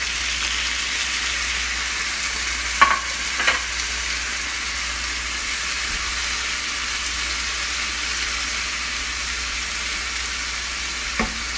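Ginger and cardamom fry in hot oil with onions in a pot for a biryani, giving a loud, steady sizzle throughout, with a few brief clinks of utensils.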